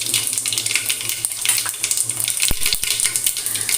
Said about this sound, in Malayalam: അത് ചൂടായതിന് ശേഷം നമുക്ക് കടുകിട്ട് കൊടുക്കാം